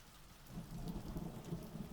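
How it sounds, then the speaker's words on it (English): A thunderstorm carries faint, steady rain with soft, distant rolls of thunder swelling underneath, quiet and continuous with no talking. "What if the storm goes on for hours?"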